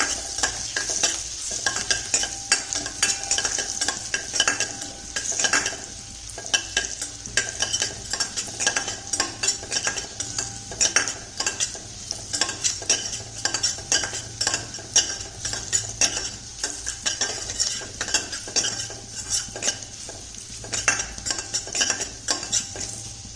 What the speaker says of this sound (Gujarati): એને આપણે ફ્રાય કરી લેવાના છે।